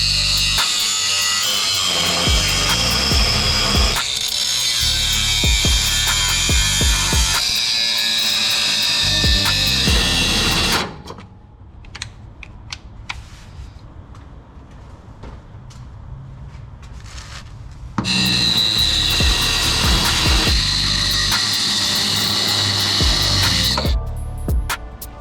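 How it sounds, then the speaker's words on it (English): A power tool grinds loudly and continuously through rivets on a Ford Ranger frame in two long cutting passes, separated by a quieter stretch of clanks and handling noise. "you just saw me cut these rivets"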